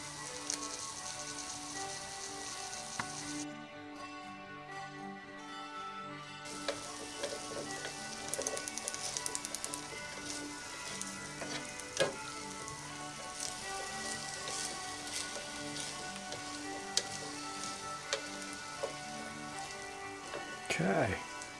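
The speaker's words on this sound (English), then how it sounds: "we got to let them carrots and onions go on that fire" Beef, carrots and onions sizzling in a pot over an open fire, a steady crackling hiss that runs throughout with scattered pops, fairly quiet, with occasional background noise.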